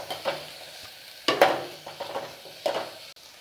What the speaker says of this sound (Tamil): கேரட், ஒரு சின்ன உருளைக்கிழங்கு, எல்லாத்தையும் சேர்த்தாச்சு. இது கொஞ்சம் நல்லா வதங்கட்டும்.